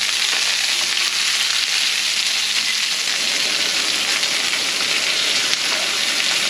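Chicken fries in a pan with a loud, continuous, steady sizzle and crackle filling the whole stretch, close up and with no talking.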